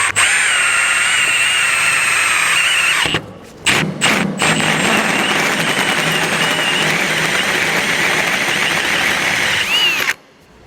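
A power drill with a 1.25-inch hole saw grinds loudly and steadily through a steel vehicle frame for several seconds, with a couple of brief pauses near the start before it runs on and stops.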